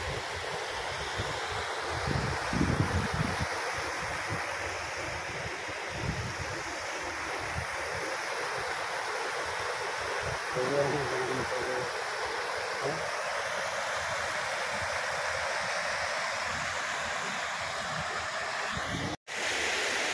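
The Harkhudi river near Kuba village, Visavadar, Junagadh, pours over check dams in a continuous close rushing wash, with gusty wind buffeting the microphone and a brief dropout near the end.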